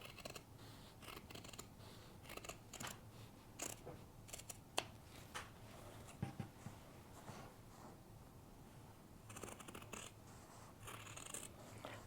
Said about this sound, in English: I'm just going to just cut right.